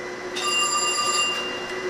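Telephone line ringing through a Western Electric step-by-step switching system into a 182 key system, a steady electromechanical ring with bright sustained tones held for over a second before cutting off, loud and near with no talk.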